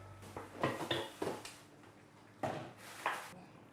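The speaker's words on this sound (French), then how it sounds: "On va écraser du gingembre avec l'anis verte." Ginger crushed with green anise, a series of close, dull pounding knocks and scraping clinks in bursts, fairly faint against a quiet kitchen background.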